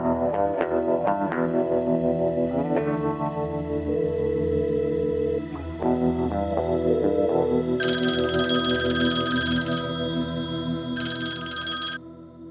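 A telephone rings in a drama scene, with a bright electronic ringing tone repeating in two bursts over background music, loud and close.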